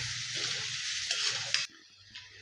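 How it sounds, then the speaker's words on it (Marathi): Onion frying in a pan with whole spices, a bright steady sizzle close by that cuts away sharply to a quieter hiss with a light clink near the end. "आणि कांदा आता बऱ्यापैकी फ्राय झालेला आहे."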